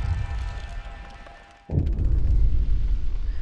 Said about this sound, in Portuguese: Barulho de explosão ouvido do gerador